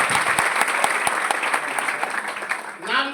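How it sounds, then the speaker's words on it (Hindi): An audience at a business gathering greets a guest with enthusiastic, dense clapping in which individual sharp claps stand out, sustained for the whole stretch before a voice begins to come through at the very end. "जबरदस्त तालियों से स्वागत करें सर"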